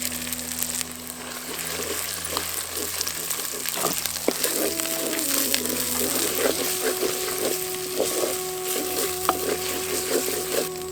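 Curry leaves, ginger garlic paste and small onions frying in hot oil for a sweet mutton tamarind curry, a continuous close sizzle with occasional stirring clatter and a faint background hum.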